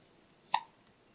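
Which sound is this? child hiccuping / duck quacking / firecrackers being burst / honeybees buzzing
child hiccuping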